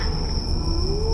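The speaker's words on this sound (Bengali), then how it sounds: "চারপাশ থেকে ঝিঝি পোকার শব্দ" Crickets chirp in a forest at night as a continuous, dense, high steady trill, loud and close, with no voices.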